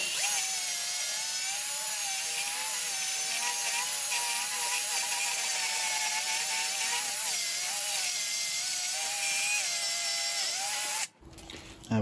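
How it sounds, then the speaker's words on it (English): A small mini chainsaw cuts through hinoki cypress bonsai branches with a steady, close, high-pitched buzzing whine that wavers slightly in pitch, running continuously before cutting off abruptly near the end. "So I'm going to use my little mini chainsaw for that."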